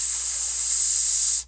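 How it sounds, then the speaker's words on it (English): A trumpet player blows a steady, bright sizzling hiss of air through the lips, loud and close, holding evenly for over a second before cutting off sharply. "in the band world in general, we call that sizzling"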